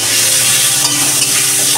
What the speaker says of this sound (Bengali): এবার আমি প্রথমে আলুগুলোকে একটু ভালো করে ভেজে নরম করে নেবো